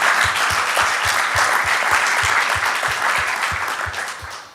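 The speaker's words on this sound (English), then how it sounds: "Applause." Dense, steady applause fills a symposium hall, the BE-AM Symposium 2019, with a regular low thudding pulse underneath that fades slightly at the end.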